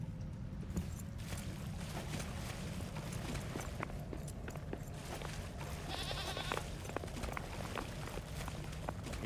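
Goat bleating in the Return to Moria video game, a few short bleats over steady ambient game noise and footstep-like clops.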